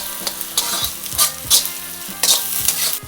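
Ginger garlic paste fries in a pan for a Telugu methi chicken fry, a steady close sizzle broken by repeated scraping stirs of a spoon roughly every half second, with no voices.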